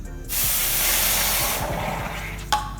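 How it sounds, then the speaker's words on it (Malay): Hot water runs steadily from a kettle or dispenser into a cup in a lab setting, a loud continuous splashing hiss lasting about a second and a half, then a quieter tail and a brief clink near the end. "Seperti tadi, saya isi air panas"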